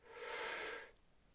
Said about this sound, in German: Ich atme ein